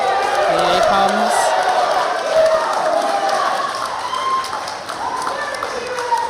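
Crowd at a powerlifting championship in Scotland, cheering and clapping steadily for a lifter approaching a heavy bar, a sustained wash of applause and voices that eases slightly toward the end.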